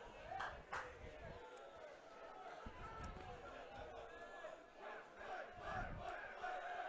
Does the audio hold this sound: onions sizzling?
no